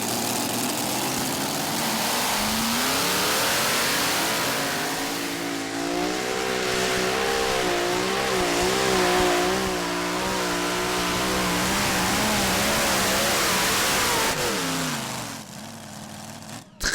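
Modified pulling tractor with V8 engines at a 2014 Bouconville tractor pulling event, a loud sustained engine roar with rising and wavering pitch over about fifteen seconds before cutting off.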